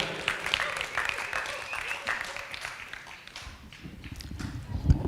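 An audience at a Balinese rebab workshop performance in Buleleng Regency claps lively applause to welcome an honored guest, a busy patter of many hands that swells and eases slightly over several seconds.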